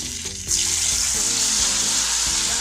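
Soaked mushrooms drop into a vessel of hot oil and break into a loud, steady sizzle and frying crackle, heard up close for a few seconds.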